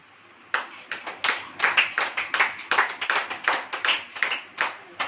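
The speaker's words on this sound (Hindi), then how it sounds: "अब ताली बजाओ" A congregation at a church sermon claps hands in a loud, distinct rhythm of separate near claps, starting abruptly after a quiet moment and continuing evenly throughout.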